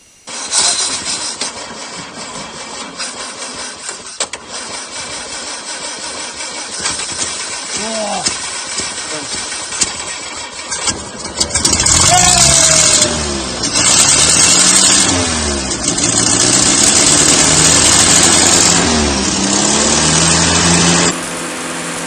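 A Land Rover Series 2 farm find cranks repeatedly with the engine struggling to catch, then fires and runs at a rough, loud idle for the second half, with people talking over it.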